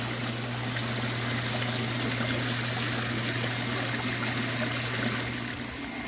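Water streams steadily into a tank holding tilapia, a continuous trickling rush with a low pump-like hum underneath, even in level throughout and without voices.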